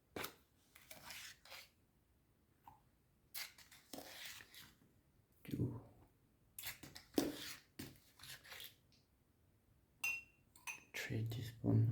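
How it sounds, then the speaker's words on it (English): A teaspoon scoops Horlicks and taps against a glass, giving several sharp clinks and rasping scrapes in short bursts separated by quiet gaps, with a voice speaking in between. "3 teaspoons of Horlicks"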